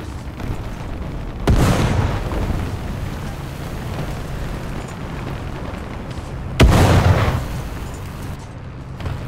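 Tank cannon fire in War Thunder: two heavy, booming blasts several seconds apart, each with a rumbling decay, over steady engine-like background noise and no talking.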